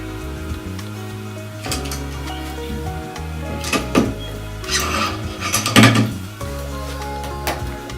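A vertical PCB holder being latched, giving a run of sharp mechanical clicks and ratcheting snaps with some metallic clatter, close and fairly loud, with short pauses between bursts.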